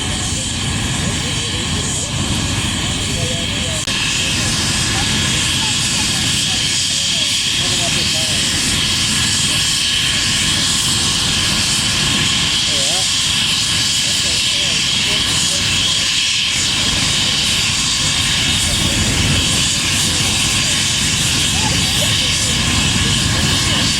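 Glider tug aircraft towing a Schleicher glider overhead at an airshow, a steady droning aircraft engine held at moderate distance throughout, with an announcer speaking over the sound.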